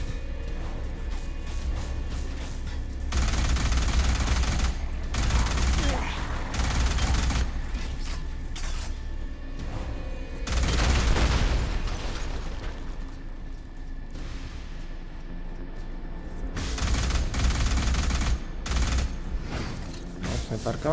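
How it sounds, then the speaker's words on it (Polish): Explosions and bursts of gunfire from the PC shooter Alien Rage Unlimited, loud and continuous with repeated heavy blasts and rattling fire across the whole stretch, with a voice talking over parts of it. "Te pieprzone wybuchy, kurde."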